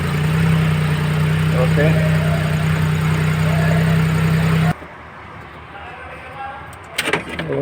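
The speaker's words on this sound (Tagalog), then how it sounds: "Isang minivan na multi-cab, no? So yan ang andar niya." Multicab minivan engine idles with a steady low hum for several seconds, then cuts off abruptly, leaving quiet room noise, some handling clatter and brief speech near the end.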